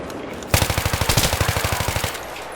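Automatic gunfire in Battlefield 3, a loud, rapid burst of about fifteen evenly spaced shots that starts abruptly and then stops, standing alone.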